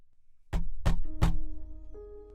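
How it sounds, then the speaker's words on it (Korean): Three loud, heavy knocks pound on a door in quick succession, a hard, angry hammering, followed by a low lingering resonance and faint tonal hum. "누군가가 문을 두드렸다."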